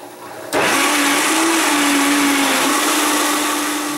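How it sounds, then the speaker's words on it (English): A blender kicks on abruptly and grinds ingredients for a vegan gluten-free apricot orange fudge into a paste, a loud, steady whirring motor whine held close and alone. "So I'm going to grind this up for you"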